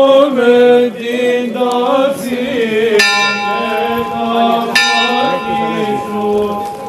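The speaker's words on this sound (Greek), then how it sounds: "Οι καμπάνες χτυπούν πένθυμα μεταφέροντας την είδηση του θανάτου του Ιησού Χριστού." Church bells toll mournfully on Good Friday, their rich ringing strikes loud and sustained, with fresh strokes landing around three and five seconds and long overlapping hums between them.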